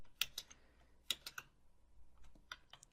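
Computer keyboard typing during digital character sculpting, a few quick close clicks in small bursts, with quiet gaps between, no speech.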